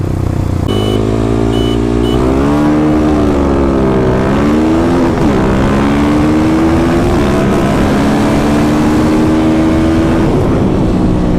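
A 2021 Kawasaki KLX300 dirt bike fitted with a Power Commander is ridden hard, its engine note rising and falling through repeated revs and gear changes for the whole stretch, loud and close with steady wind and road roar underneath.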